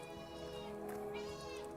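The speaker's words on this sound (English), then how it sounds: "maybe you can hear my cat Lucy in the background" A cat named Lucy meows faintly in the background of a room, a drawn-out, tonal cry heard softly and alone.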